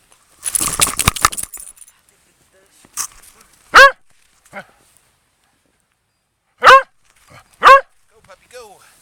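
A corgi out in a snowy blizzard gives three short, loud barks, one alone and then two close together, after a jingling rattle of keys or tags at the start, with quiet gaps between.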